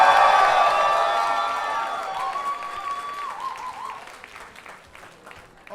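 An audience at a drag show in Newcastle cheers and applauds loudly, and the crowd noise slowly fades over several seconds.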